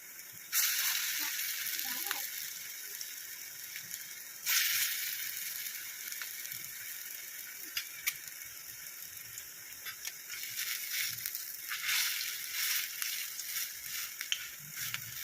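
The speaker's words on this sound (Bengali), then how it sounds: "একে একে বড়াগুলোকে ভেজে নেব।" Pumpkin flower fritters sizzle in hot oil with a steady crackling hiss, flaring louder in bursts as new pieces drop in, with occasional clicks of stirring.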